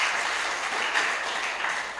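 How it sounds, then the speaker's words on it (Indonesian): A church congregation applauds during a sermon, steady dense clapping at moderate volume that holds evenly across two seconds without voices on top. "berikan tepuk tangan bagi Tuhan kita"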